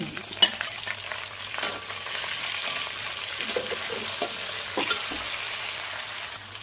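Chicken and capsicum stir-fry in a hot pan, a continuous close sizzle broken by occasional scraping knocks of a spoon against the pan, with no talking.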